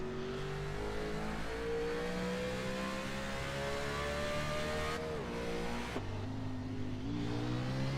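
Race car engines at Talladega in iRacing drone steadily at high revs, with a pitch drop and gear change as the car slows toward the pits, loud and continuous throughout.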